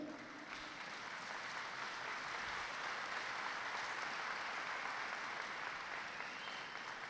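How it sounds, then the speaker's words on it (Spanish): A church congregation claps steadily in praise during a Spanish-language sermon, a dense, continuous wash of applause that holds evenly throughout with no voices rising above it. "Aplaude al Señor."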